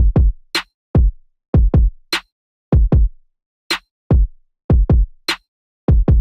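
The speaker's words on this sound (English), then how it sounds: "The kick and snare alone sound like this." Kick and snare drums from an electronic dance track, playing alone in a steady repeating pattern of punchy low kicks and sharp snare hits, loud and dry with gaps between beats.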